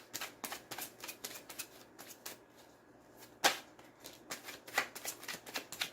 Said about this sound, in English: now while I'm shuffling